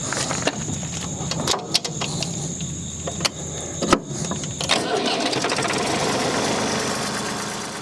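A tractor engine cranks with sharp intermittent clicks and bursts, then catches and settles into a steady, loud running drone, alone without talk.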